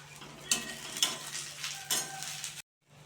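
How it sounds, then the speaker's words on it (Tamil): Tamarind and grated coconut are sautéed in a pan with soft stirring scrapes and a faint sizzle, quiet and close, ending in a brief silence. "அது கூடவே எடுத்து வச்சுருக்க தேங்காய் பூவும் சேர்த்து நல்லா வதக்கி விட்டுற வேண்டியதுதான்"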